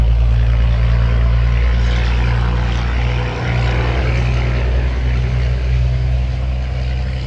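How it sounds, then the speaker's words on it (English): A loud, heavy engine rumble fills the clip steadily, like a noisy truck rolling past nearby, with a broad rushing roar over the low drone. "Noisy truck. Goodness gracious."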